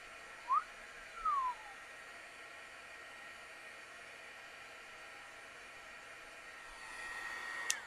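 A heat tool blows a steady airy whoosh while it dries a watercolor card background. The hiss stays constant and fairly faint, a few soft squeaks come before it, and it swells slightly louder near the end, with no speech.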